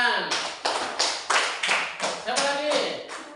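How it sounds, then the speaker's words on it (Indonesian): Group clapping in a classroom during a teacher reflection session, about eight broad rhythmic claps in steady succession with voices murmuring underneath. "Oke, tepuk tangan."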